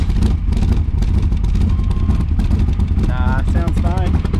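A 1982 Camaro engine runs steadily with a deep, throbbing exhaust rumble close to the listener, with a brief whining tone rising near the end.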